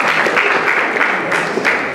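An audience claps for students at a school ceremony, a steady, dense wash of applause that stays loud and even throughout.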